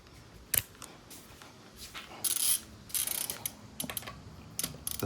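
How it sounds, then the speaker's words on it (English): A torque wrench tightens car wheel nuts with rapid ratcheting clicks in short, uneven bursts and a few sharp snaps, close and clear, with no speech. "then you can torque your wheels"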